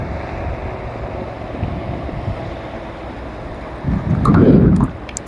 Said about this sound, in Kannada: ಗಾಳಿ ಹೆವಿ ಬರ್ತಾ ಇದೆ.